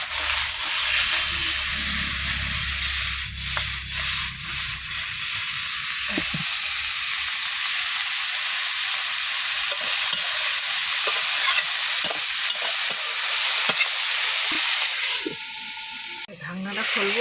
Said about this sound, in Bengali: খুন্তিতে নাড়বো না, এইভাবে নাড়বো একটু।